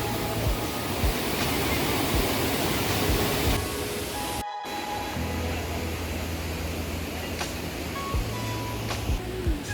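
A constant roar of falling water from a waterfall in the Carpathian mountains fills the scene, broad and steady, with a short dropout midway and faint wind buffeting the microphone.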